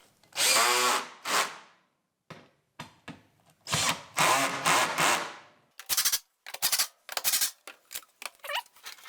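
Power drill driving screws into a slightly warped board for a homemade ceiling speaker mount, several loud close bursts of whirring with pauses between, ending in shorter rapid stabs.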